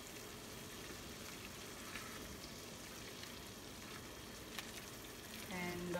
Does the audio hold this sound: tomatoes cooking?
yes